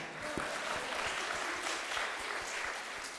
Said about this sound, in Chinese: 鼓掌一下